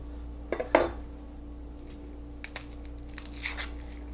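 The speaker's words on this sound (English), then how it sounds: "Now on this onion, let's take off that outer layer." An onion's dry outer layer is peeled off by hand in a kitchen: a couple of crisp crackling tears up close, followed by faint rustling and small scrapes against a low steady hum.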